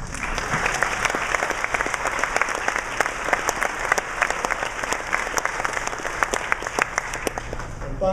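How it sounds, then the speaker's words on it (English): An audience breaks into sustained applause for students at an honors and awards ceremony, many hands clapping densely and steadily throughout, fairly close and filling the room. "I certainly think you all deserve a round of applause."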